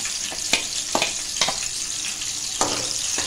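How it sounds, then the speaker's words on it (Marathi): Green chillies and garlic sizzle in hot oil in a frying pan, a steady close crackle with a few soft stirring scrapes and no talk. "मिरची आपली थोडी परतून झालेली आहे।"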